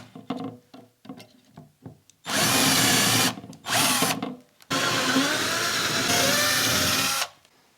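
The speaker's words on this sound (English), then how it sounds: "I'm going to drill right through the holes provided" A power drill whines in two short bursts and then one longer steady run as it bores screw holes through 1/2-inch and 3/4-inch plywood for an under-stair storage box, preceded by light knocks and handling sounds.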